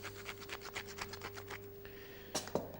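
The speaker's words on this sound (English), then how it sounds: "I am going to put a little grind of black pepper" Black pepper ground from a mill over a traditional fish pie, a run of quiet rhythmic scratchy grinding twists, close and faint, followed by a couple of small knocks.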